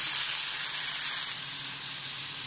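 Boiled cabbage frying in a pan, a loud steady sizzle and hiss throughout that eases slightly partway through as it is stirred.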